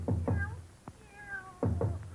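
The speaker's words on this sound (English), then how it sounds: "Wonder what's wrong with the cat." A cat meows several times in an old-time radio drama, two quick pairs of close, plaintive cries with a short gap between.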